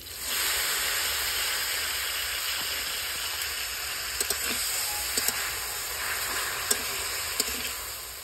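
Steady hissing sizzle of spinach and coriander leaves frying in a hot pan, with a few faint clicks of a utensil against the pan.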